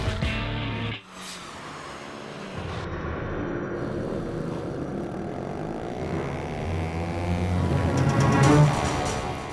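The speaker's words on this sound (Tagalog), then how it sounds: "Ang katahimikan binabasag ng ingay mula sa mga nagngangalit na tunog ng makina ng kotse." Car engines roar at an illegal night street race on Commonwealth Avenue, a sustained engine drone that swells louder toward the end as a vehicle approaches, with no talk.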